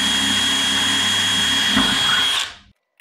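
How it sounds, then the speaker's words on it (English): A power drill whines steadily into aircraft parts during an RV-14A kit plane build, working on the fuel tank J-channel, running loud and close for over two seconds before spinning down to silence. "Yet again, we are drilling in the plane."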